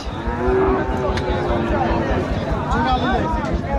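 Cattle low at a busy Rajshahi livestock market, one long moo drawn out clearly over a steady hubbub of talking people and crowd noise.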